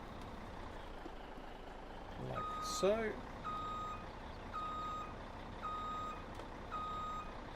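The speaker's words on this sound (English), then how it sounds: "So now we're going to bring the truck over here and park next to the other one." Truck reversing beeps in Farming Simulator 17, a steady run of evenly spaced electronic beeps over a low engine rumble, with a hiss of air brakes and a brief spoken remark.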